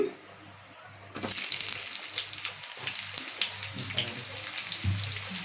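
Onions hitting hot oil in a kadai burst into a loud, continuous sizzle after a quiet moment, close and crackling steadily to the end.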